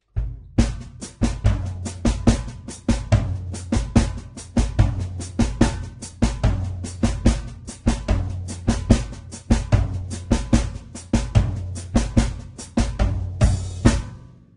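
A full drum kit grooves in a busy samba batucada pattern, quick snare strokes over a steady pulsing bass drum and foot rhythm, close and loud.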